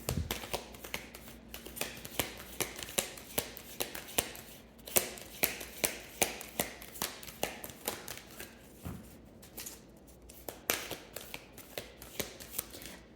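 A tarot deck is shuffled steadily for a closing card, the cards riffling and slapping in quick, close repeated bursts with a soft hum underneath.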